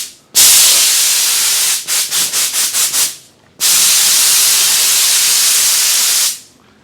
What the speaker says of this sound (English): So I'm going to clean all this insulation off first. It's not vermiculite, it's just blown in cellulose.